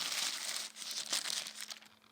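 A plastic bag crinkles and rustles up close in quick, papery bursts as RC car air filter parts are put into it, continuing for a couple of seconds with no talking.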